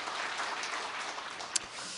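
A church congregation at a Sunday worship service applauding the choir, a steady wash of many hands clapping from across a large hall, moderately loud and even throughout.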